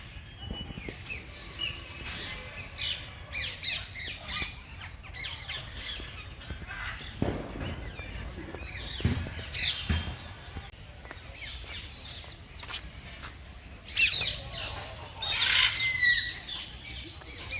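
Several birds squawk and screech repeatedly, some harsh calls close and loud, others farther off, with a few chirps mixed in.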